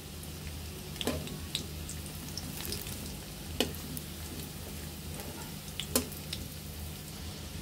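Rohu fish roe koftas frying in hot oil in a pan: a steady, even sizzle with a few sharp clicks and taps as the koftas are turned, no talking.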